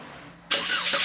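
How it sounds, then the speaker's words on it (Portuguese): A Chevrolet S10 LTZ pickup starts by remote key, a quiet lull suddenly broken by the engine catching and settling into a loud, steady run. "Eu consigo fazer o motor ligar através dela."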